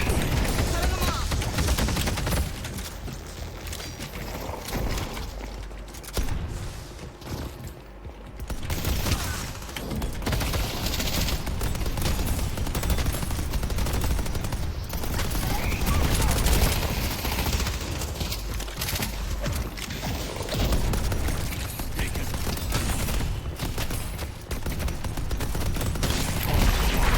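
Dense, continuous gunfire from a turret in the video game Deadlock, rattling steadily for the whole stretch alongside other battle noise, with players talking over it.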